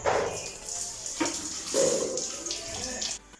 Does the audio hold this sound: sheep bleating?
no